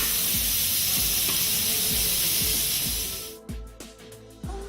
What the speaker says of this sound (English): Release the remnant refrigerant from the AC